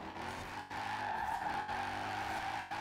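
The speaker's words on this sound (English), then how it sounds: "I gotta say, the sound of this engine is very nice." A race car in the Forza Horizon 4 driving game, its engine droning steadily with a sustained tire skid layered over it, loud and continuous except for a few brief dips.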